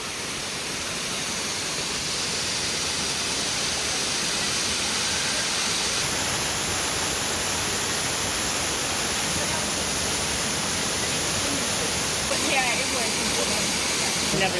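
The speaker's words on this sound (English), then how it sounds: "There's a lot of water coming through here at the moment." Water rushes steadily over a waterfall in the Blue Mountains, heavy with flow, making a loud, continuous broadband roar that fills the scene with no breaks.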